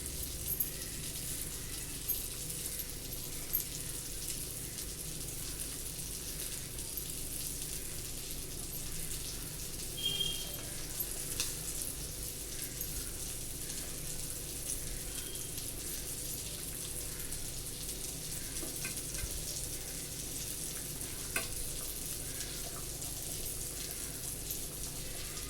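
Fish curry with coconut bubbles at a steady boil in the pot as fish pieces go in, a soft continuous simmer with faint pops and splashes and no talking.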